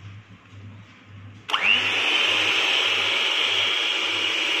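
An electric mixer starts abruptly and beats butter and sugar on medium speed, a loud steady whirring drone that holds without pause, after a quieter stretch of faint rhythmic background thumping.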